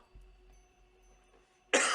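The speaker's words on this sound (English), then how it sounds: "Excuse me. It's the cough." A single sharp cough bursts out near the end of an otherwise quiet stretch, close and loud after faint low background hum.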